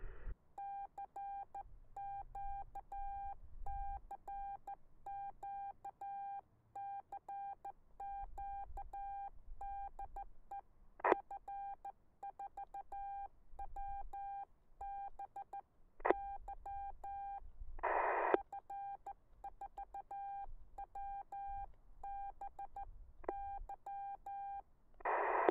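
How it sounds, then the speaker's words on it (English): Morse code is sent over 2 m SSB radio from the top of a spoil heap, heard as a steady beeping tone keyed on and off in short and long pulses, fairly faint, with occasional clicks. "Maybe a CW Morse code will go through."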